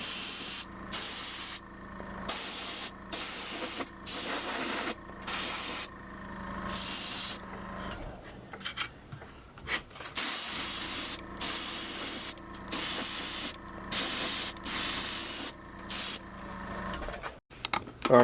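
Spray paint hisses in repeated short bursts onto a custom LeBron 17 sneaker, coating it purple in a steady on-off rhythm, close and loud, with a brief rustling pause midway and no talking.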